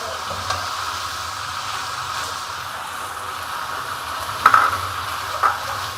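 Carrots and bell pepper (shimla mirch) frying in a pan for chicken pasta give a steady, fairly loud sizzle, with a couple of sharp utensil clinks against the pan near the end.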